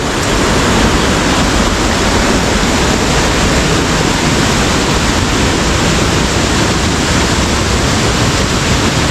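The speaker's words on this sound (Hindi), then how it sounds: "ये आप देख सकते हैं कि इस तरह बहुत स्पीड में पानी यहाँ पर आ रहा है।" The Katori Gali waterfall at Komi Kot, Azad Kashmir, sends water crashing at high speed into a deep rock pool, making a loud, constant, close roar with no letup.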